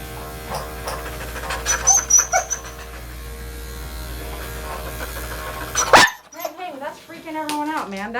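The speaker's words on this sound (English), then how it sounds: "That loud, high-pitched, just sudden bark is just, whoo, too much." A Portuguese Water Dog being groomed lets out sudden, loud, high-pitched barks near the end, after a stretch of steady clipper-like buzzing with background voices.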